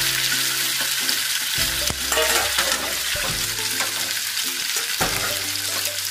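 Chicken drumsticks frying slowly in oil in a pan, a steady crackling sizzle with occasional scraping and stirring knocks, close and loud, no talk.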